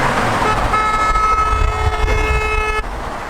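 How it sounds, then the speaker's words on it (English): Several car horns honk in busy traffic, one long steady horn tone held for a couple of seconds amid engine and road rumble, loud and close. "People are honking."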